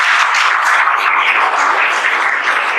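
An audience honouring exam toppers breaks into steady, dense clapping, a continuous bright wash of many hands at even loudness from start to finish.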